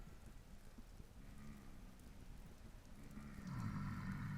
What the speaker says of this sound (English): the rain may actually put out the torches